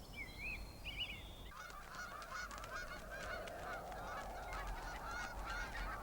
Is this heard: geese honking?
yes